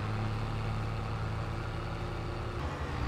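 Tractor engine in Farming Simulator 22 pulling a large slurry tanker: a steady, low, droning engine rumble at constant load, continuous and fairly close, with no talk over it.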